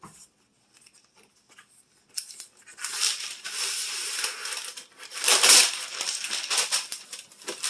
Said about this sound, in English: I'm going to grab some parchment paper